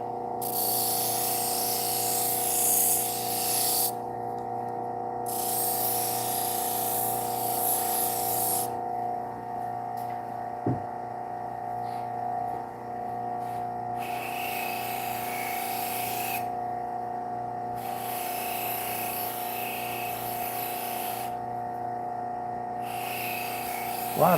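Knife blade pressed against a spinning Scotch-Brite wheel for deburring, a steady abrasive whir with bursts of harsher hissing grind as the edge touches and lifts off in repeated passes, close and continuous with no talking.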